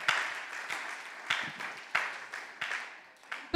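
Congregation applauding in a church during a worship service, a steady wash of clapping from many hands with periodic louder swells, moderately distant and without voices.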